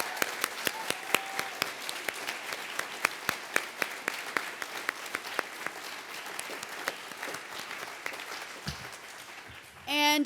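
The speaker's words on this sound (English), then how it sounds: "another round of applause for all 10 of our senior" Light applause from a modest audience at college senior project presentations, a patter of separate claps carrying on steadily before a brief loud noise at the very end.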